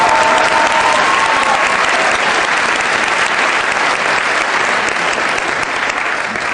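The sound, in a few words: audience applause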